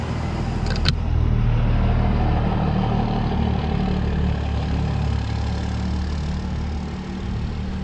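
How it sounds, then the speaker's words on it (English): A diesel truck engine idles close by, a steady low rumble holding throughout with a brief clack near the start and no one talking. "So we got this diesel truck."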